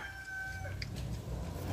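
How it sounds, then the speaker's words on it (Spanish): Soft clucking from three hens and three chicks in a henhouse, with a few brief higher peeps, over a steady low background hum. "Los pollitos ya se están familiarizando con la nueva casa."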